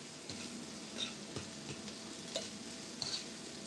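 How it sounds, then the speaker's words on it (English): Mushrooms saute in garlic butter in a pan, a soft continuous sizzle with occasional stirring taps and clinks, quiet and close with no talk. "Gonna saute our mushrooms in that butter."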